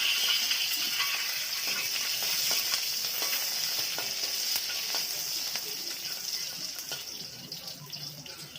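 Slit green chillies drop into hot oil and fry with a continuous bright sizzle and crackle, close and moderately loud, easing slightly toward the end with scattered pops, no talking.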